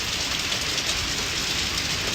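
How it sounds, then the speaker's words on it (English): Rain, easing off but still loud, hits the ground in a dense, steady hiss with no pauses, close and even throughout. "The rain's getting lighter. Like it's so like loud, but you can tell the rain's lighter."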